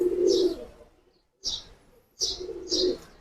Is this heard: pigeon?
yes